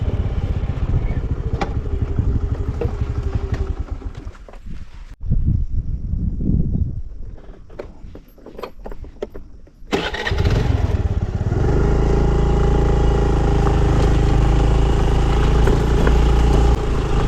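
A motorcycle pulled over on a forest road, first running with a rough rumble, briefly quieter and uneven, then settling into a loud, steady close-up idle with a constant throbbing drone.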